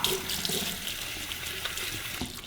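A tap runs steadily while hair extensions are washed under it, a continuous close splashing with small bursts as water hits the hair and sink.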